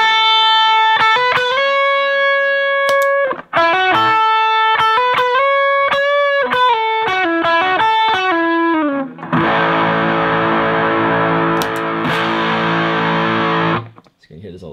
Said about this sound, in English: Try it with the distortion.